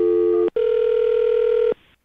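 A telephone ring tone sounds alone, a short steady electronic burst followed by a brief break and a longer sustained tone, clear and close before ending abruptly.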